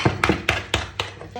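A baby mixing ingredients with a spoon in a bowl, five or six distinct clinks and knocks in an uneven rhythm, close and fairly clear.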